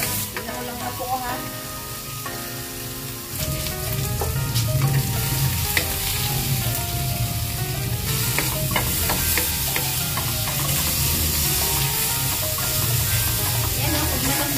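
Chayote and tomatoes sauté in a pan with a loud, continuous sizzle. Stirring scrapes and clinks keep breaking through the hiss, which grows fuller partway through.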